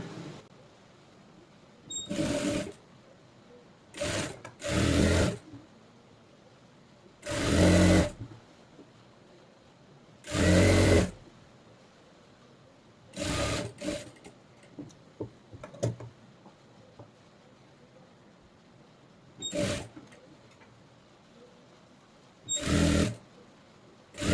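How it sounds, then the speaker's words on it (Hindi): Sewing machine stitching a double-folded seam on a readymade kurti, in about eight short, close bursts of fast whirring stitching separated by quiet pauses, with no talk. "यहाँ पर ऐसे इसको डबल फोल्ड करके यहाँ पर हमें इसको सिलाई लगा देना है"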